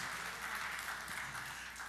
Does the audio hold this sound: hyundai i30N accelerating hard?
no